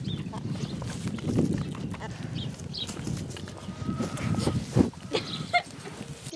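Goats on a homestead in early spring, with shuffling, hoof movement and scattered animal noises in a busy, fairly close outdoor scene that carries on steadily throughout.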